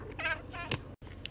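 A cat meows twice close up, a drawn-out harmonic cry followed by a shorter second call, with a brief silent gap between them.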